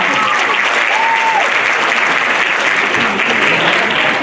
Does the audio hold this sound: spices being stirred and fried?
no